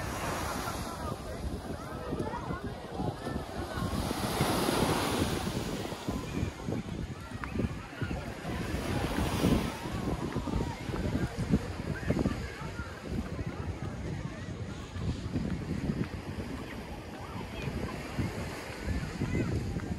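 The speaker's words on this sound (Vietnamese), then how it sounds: "Gió mát quá cả nhà." Steady wind buffets the microphone at a seaside fishing pier in Florida, a continuous loud roar with gusting swells, mixed with the wash of waves below.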